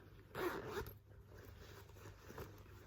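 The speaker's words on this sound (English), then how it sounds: "it's got a recessed zip here inside" A zipper pulled along the recessed zip pocket on the inside of a bag, one short quiet burst of rasping that fades into soft handling noise and low background hum.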